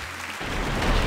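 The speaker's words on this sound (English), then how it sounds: "You got that clapping so wonderful." Applause from a crowd in the video game Battleblock Theater swells up abruptly and continues as a dense, steady clatter of clapping that grows slightly louder toward the end.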